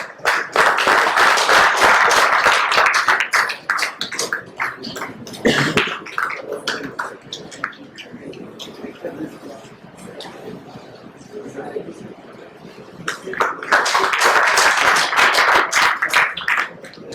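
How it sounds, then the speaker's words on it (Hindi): A crowd claps loudly at the launch of a Tobacco Free Mumbai Police Station campaign; dense applause opens, fades as people speak over a quieter scatter of claps, then swells again near the end. "जोरदार तालियां इनके लिए।"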